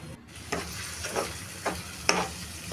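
A spoon scrapes and stirs paneer gravy masala in a pan, with a quiet sizzle underneath and four or five distinct scraping strokes spaced about half a second apart, no one speaking.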